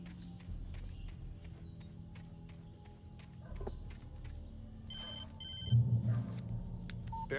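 A telephone ringing in the video game Alan Wake, two short bursts of electronic ringing heard fairly close over quiet ambient game sound.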